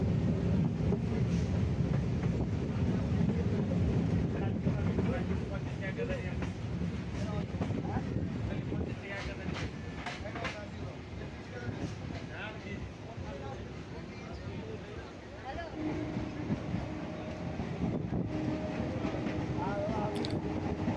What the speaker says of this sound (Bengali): আমাদের ট্রেন এবার কুন্তিঘাট স্টেশনে প্রবেশ করছে।